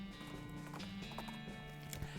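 Horse hooves clip-clop in the game West of Loathing, a quiet run of uneven hoof knocks over a low steady musical drone, faint and brief.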